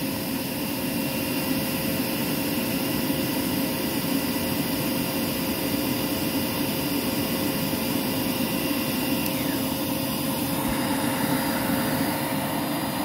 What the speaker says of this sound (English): Now we'll turn on the power nozzle.